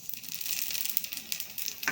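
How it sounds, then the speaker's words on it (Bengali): Vermicelli (semai) fries lightly in hot ghee, giving a steady close sizzle with faint crackles and stirring, with no voices. "সিমাইটা আমি হালকা ভেজে নেব।"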